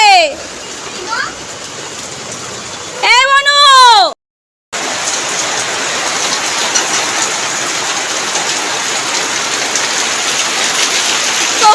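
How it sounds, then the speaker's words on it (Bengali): Heavy rain falls outside a house as a steady hiss, after a child's rising wails and a brief cut, with the downpour then continuing alone and even. "এত জোরে বৃষ্টি পড়ছে"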